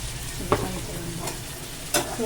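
Onions and tomatoes frying in a pan, a close, continuous sizzle broken by two or three scraping stirs.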